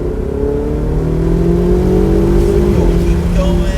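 A Ferrari 488 GTB accelerates on a race track, its engine tone climbing steadily in pitch as it revs up, loud and close, with a faint hint of voice underneath.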